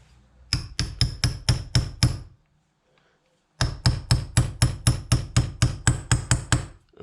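A small hammer taps metal while fitting a reverse 7/16 part on a 1965 Jaguar S-Type, two quick runs of sharp, evenly spaced strikes, six then about thirteen, separated by a short pause, close and crisp.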